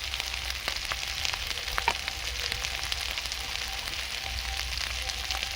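Spice masala with turmeric, salt and a little sugar is sautéed in a pan for a village-style crab and potato curry, giving a soft, continuous frying crackle punctuated by occasional faint scraping clicks.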